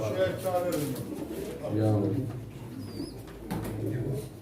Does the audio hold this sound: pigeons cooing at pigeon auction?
yes